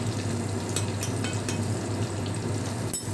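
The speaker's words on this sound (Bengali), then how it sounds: "ভালো করে আমি লঙ্কাটাকে ঘিয়ের মধ্যে করে ভেজে নিচ্ছি।" Chili sizzling in hot ghee with a few sharp spatters and a low steady hum underneath, close and fairly loud.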